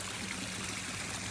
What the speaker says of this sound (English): That is my little waterfall in my backyard that my husband made.